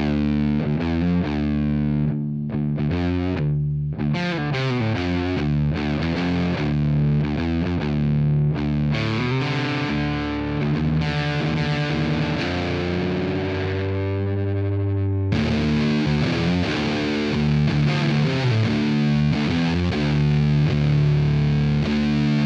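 An electric guitar played with heavy distortion through a Marshall JVM410H amplifier into an OX Box, sustained chords and riffs ringing loud and full for the whole stretch, with no voices.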